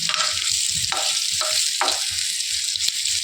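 Bitter gourd pieces sizzle in a pan of fried masala, a loud, constant crackling with a few soft stirring scrapes and taps and no talking.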